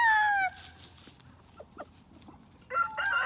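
Backyard chickens, including barred rock and leghorn crosses that lay blue eggs, let out loud squawking calls at the start and again near the end, with faint soft clucks in the quiet stretch between.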